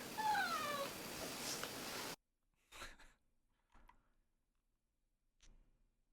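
Cat meowing, with a drawn-out whining meow in the first two seconds over background noise, followed by a few faint short sounds in near silence.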